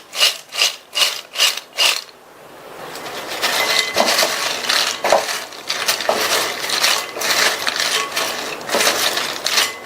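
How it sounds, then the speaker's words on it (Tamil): Wheat flour chips being shaken with salt and chili powder, first five quick rhythmic rattling shakes, then a steadier continuous rustling scrape of crisp pieces tumbling together, close and fairly loud. "இந்த மாதிரி குலுக்கி விட்டோம்னா ரெண்டுமே நல்லா ஒண்ணா மிக்ஸ் ஆயிடும்"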